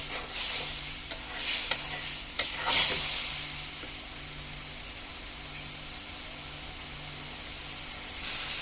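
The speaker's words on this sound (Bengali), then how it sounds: "এখন ভালোভাবে মিশিয়ে মশলাটাকে কষিয়ে নেওয়া হচ্ছে।" Spice masala for a prawn curry sizzles and fries in a pan while being stirred, with a few sharp scraping clinks early on and then a steady, soft hiss of frying.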